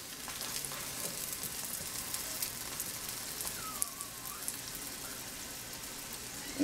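Cherry burritos fry in a hot pan with a steady, close crackling sizzle that runs unbroken for several seconds, with a faint soft scrape partway through and no voices.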